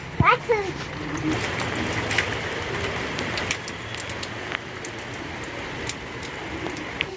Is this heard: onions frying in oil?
no